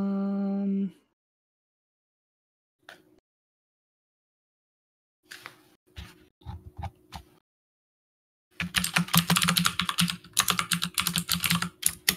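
Typing on a computer keyboard: a brief opening tone, then scattered key clicks that build into a dense, rapid burst of close, crisp keystrokes near the end, with no talk.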